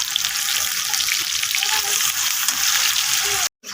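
Two medium chopped onions fry in a pan with a close, constant bright sizzle and faint stirring clicks, cutting off abruptly near the end.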